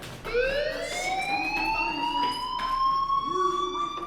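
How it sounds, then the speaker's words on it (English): A fire alarm rings in the video game Life is Strange, a loud continuous rising electronic tone that holds steady for several seconds without any talk. "Hey, do you hear that fire alarm?"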